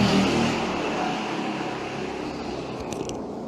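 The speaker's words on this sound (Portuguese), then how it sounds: "Passou uma moto muito barulhenta aqui" A loud motorcycle passes close by, a steady broadband engine roar that is strongest at the start and slowly fades over a few seconds, with no talking.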